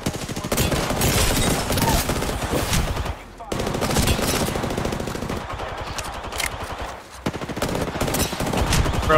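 Rapid automatic gunfire in Apex Legends rattles in long, dense bursts with brief pauses, loud and close, while players talk over it.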